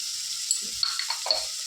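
Food frying in a pan on a home kitchen stove, a constant bright sizzle with a few soft stirring clinks and taps, close and alone.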